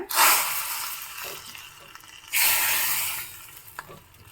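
A garlic tempering is poured into boiling drumstick rasam, Mangalore Brahmin style. Two loud bursts of sizzling hiss fade into softer bubbling between them, with a small clink near the end.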